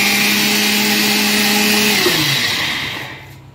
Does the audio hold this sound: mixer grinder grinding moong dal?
yes